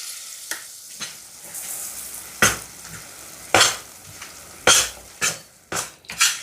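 Ground coconut chutney goes into a hot tempering of curry leaves, and the stove has just been switched off. A low sizzle sits under a series of sharp, separate spoon clinks and stirring scrapes, repeated at uneven intervals close by.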